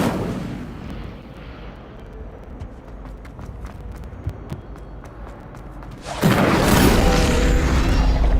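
Incendio fire spell cast in Hogwarts Legacy, a low rumbling bed with scattered crackles, then a sudden loud whooshing roar of flame bursting in near the end and holding steady.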